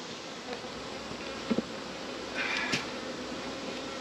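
Honey bees swarm around a hive, giving a faint, steady buzzing hum throughout with a few slightly louder passes close by.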